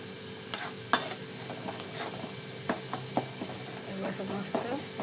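Chicken masala, onion masala, homemade spice mix and coriander being stirred in a pan, with a run of sharp spatula clinks and scrapes against the metal, some loud and close, others lighter, at an uneven rhythm.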